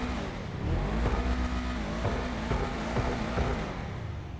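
The Ubermacht Cypher, a BMW M2 copy in the video game GTA Online, has its engine revved while parked inside a hangar and heard from inside the car. The engine drone rises and falls steadily and loudly throughout, with no talking.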